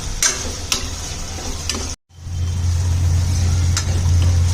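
Tomatoes sautéing in a pan over a medium gas flame, a steady low frying hiss with a few light scrapes, broken by a brief silent gap before the sizzle returns louder and continuous.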